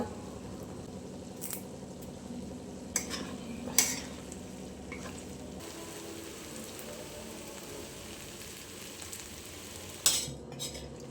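Beef boti being stir-fried dry in a pan with green chillies and curry leaves, a steady low sizzle running throughout, broken by a few sharp scrapes and clinks of the spoon stirring, with no voices.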